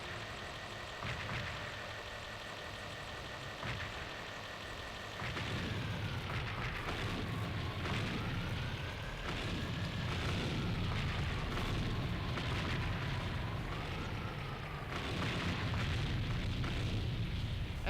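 Tank battle in a budget World of Tanks-style video game, with booming explosions over a steady engine rumble and rising, falling mechanical whines, dense and continuous after a quieter opening.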